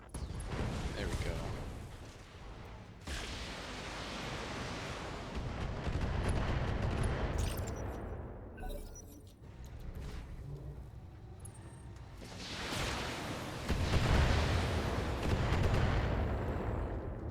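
Heavy weapons fire and impacts in the mech combat video game BattleTech, a dense, sustained barrage of booming blasts and rumbling hits that swell and fade over the whole stretch, loud and continuous, with a voice talking over parts of it.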